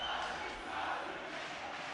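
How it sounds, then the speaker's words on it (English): A Brazilian crowd cheers at a League of Legends esports match at IEM Brazil 2013, a steady, dense roar of voices filling the arena continuously. "You can hear the Brazilians cheering these guys on."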